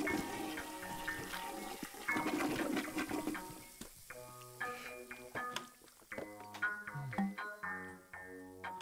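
Toilet flushing in the video game Genital Jousting, a gurgling rush of water layered over cheerful game music with tinkling ticks, steady and moderately loud throughout.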